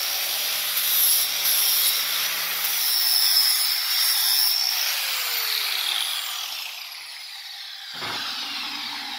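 Continuous hiss of a grinder working a coped steel tube for tube fabrication, steady and fairly loud for most of the stretch, tapering off near the end with a brief thump.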